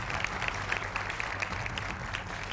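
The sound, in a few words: audience applause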